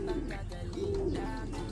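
Racing pigeons coo softly in low, rolling calls, a couple of wavering coos close by over quiet background noise.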